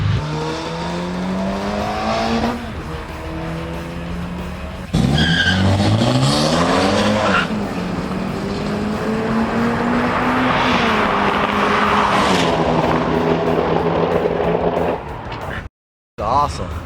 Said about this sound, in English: He's still spinning tires about 300-400 feet out.